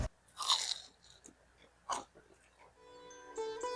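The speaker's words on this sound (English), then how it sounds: "want to take a bite and then a second one" Crunchy bites into a golden fried samosa with spiced filling, two crisp bursts of crunching close to the mic, followed by soft chewing and faint background sounds.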